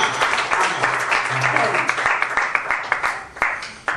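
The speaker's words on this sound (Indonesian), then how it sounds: "Tepuk tangan sekali lagi yang paling meriah." A church congregation applauds enthusiastically during a service, clapping dense and close with some sharper individual claps standing out, while voices and murmurs mix in underneath.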